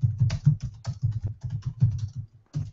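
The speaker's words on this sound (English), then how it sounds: "for as long as I've been typing, I have never been a good typist" Fingers tap steadily on a computer keyboard in an office-style setting, producing a fast, uneven patter of close, soft key clicks with a few brief pauses and no talking.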